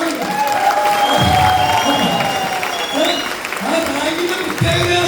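Audience applause from a crowd at a business event, a steady wash of clapping running through the whole stretch with people talking loudly over it.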